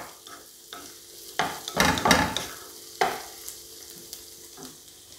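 Curry leaves fry in a pan for a Kerala vegetable stew, giving bursts of sizzling and crackling with a few stirring scrapes, close and fairly loud in short waves.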